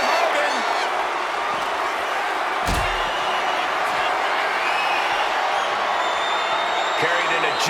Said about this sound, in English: Powerbomb into the ambulance?